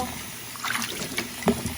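Raw meat for borscht is dropped into water, giving close splashing and sloshing with a few sharper plops amid steady trickling.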